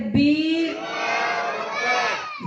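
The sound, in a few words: crowd shouting religious slogans in response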